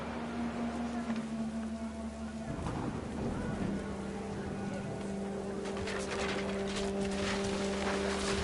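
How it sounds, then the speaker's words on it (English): Steady rainfall with low rumbling from a stormy scene in Hogwarts Legacy, droning and moderately faint throughout, a deeper surge arriving partway and thickening toward the end. "The rain came down in buckets then"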